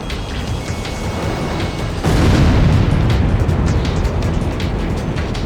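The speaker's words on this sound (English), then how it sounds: "That was a huge explosion!" A huge explosion in Ace Combat X erupts as a loud, deep boom that swells abruptly and then holds as a heavy, rumbling roar with crackling debris.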